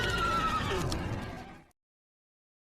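A horse whinnies loudly and close, a long continuous neigh with faint hoof clatter that fades out after about a second and a half, followed by silence.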